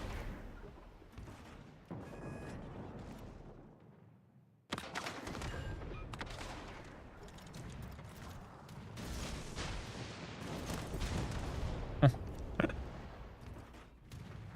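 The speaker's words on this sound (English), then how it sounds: "There's a lot of missiles flying around" Missiles streak and explode during a naval battle in World of Warships: Legends, a dense stretch of whooshes, blasts and mechanical clatter that swells after a brief lull, with a few sharp loud hits near the end.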